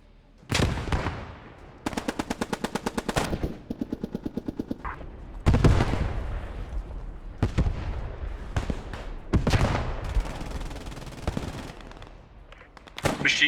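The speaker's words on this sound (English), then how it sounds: "Machine gun at the top of the stairs on that building." Machine gun fire in the World War II game Post Scriptum, with rapid rhythmic bursts of shots alternating with loud single cracks and booming reports, close and sharp, separated by short quieter gaps.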